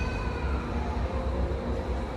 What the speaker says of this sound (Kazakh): Арғы жағынан қарама-қарсы бағыттағы пойыз жүріп жатыр әрі қарай